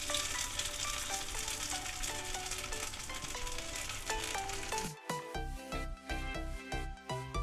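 Sabudana bonda batter frying in a little oil in the cavities of an appe pan, a steady close sizzle with soft crackle running throughout, overlaid by music that grows choppier near the end.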